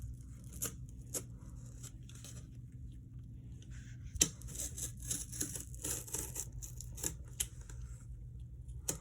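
Scissors snip and tear through cardboard in a quiet room, a few sharp crisp cuts spaced out, with rustling and scraping between them.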